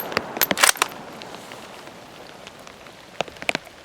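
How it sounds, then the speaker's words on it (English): Steady rain falls outdoors in a continuous soft hiss, broken by a few sharp, loud cracks near the start and again near the end. "Get them out in the rain, get them out in the snow."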